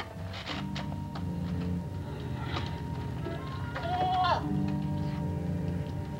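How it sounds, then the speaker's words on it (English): A goat bleats once, a wavering cry rising clearly over a low background murmur with scattered faint knocks, heard indoors in a 1960 horror film scene, no one speaking over it. "Is that a goat? Yes, Papers. It's a goat."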